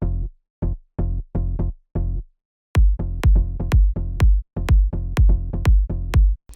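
A plucky FM sine-style synth bass drives a melodic techno groove, short punchy low notes in a steady pattern, joined halfway through by sharp clicky transients on each hit, loud and dry with no voices.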